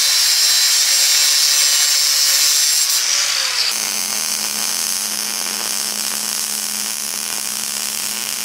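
A power tool cuts down a clutch pedal part during a Toyota Tacoma 5-speed swap, a loud steady high-pitched whine that shifts pitch partway through and keeps running to the end.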